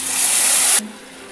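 Tamarind juice, squeezed from soaked tamarind, poured into a pan: a loud, steady broadband pouring rush for most of a second that cuts off abruptly, leaving a faint low hum.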